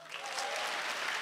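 An audience at a stand-up comedy show breaking into applause, a short, steady wash of many hands clapping at moderate distance.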